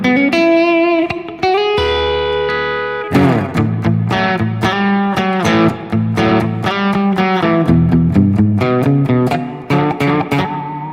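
Electric guitar played through an effects loop on a modular Helix setup with Wampler pedals, a distorted, effected tone with sustained chords followed by rapid rhythmic picked notes, loud and close with no talking.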